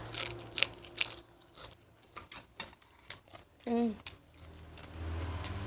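Crunchy bites and chewing on spicy Thai squid tentacle salad, several sharp crisp crunches spaced out, close to the mic, with a brief voice sound and background noise.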